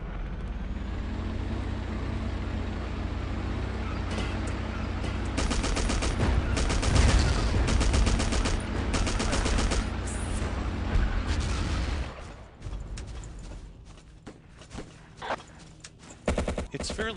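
An anti-aircraft gun fires in Battlefield 1942 on the Wake Island map: loud, rapid automatic fire rattles for about twelve seconds, then falls back to scattered, sharper bursts over quieter game noise.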